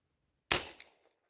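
A single suppressed pistol shot from a Primary Arms FM9 with a SilencerCo Octane 45 suppressor, a sharp close crack after silence that trails off into a short echo.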